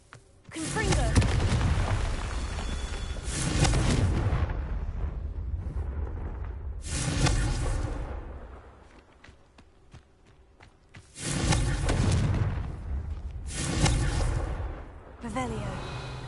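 Confringo fire-spell blasts in Hogwarts Legacy, several loud booming bursts of a second or two each, separated by quieter rumbling gaps.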